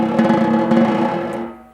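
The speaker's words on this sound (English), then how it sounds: "6 overlapping soft buzzes" Six overlapping soft buzzes on a snare drum at a slow pace, the individual sticks' buzzes still distinguishable as they blend into a gentle, close roll that fades out at the end.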